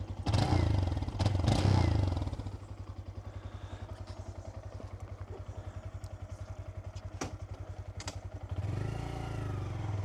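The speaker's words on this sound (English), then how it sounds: "Ooh, what a lovely little sounding bike." A 2026 Honda Grom motorcycle engine runs while riding, first revving loudly, then settling into a rapid steady putter before rising again near the end, with brief faint talk.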